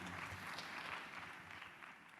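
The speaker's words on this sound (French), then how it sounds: "On peut les applaudir." Audience applause for speakers on stage at a Big Data and AI trade show in Paris, a steady, dense wash of many hands clapping at moderate distance, continuous through the short stretch.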